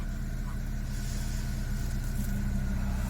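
A gasoline car engine running smoothly just after starting, following injector repair work, a steady low idle hum with faint light mechanical ticking, close and continuous throughout.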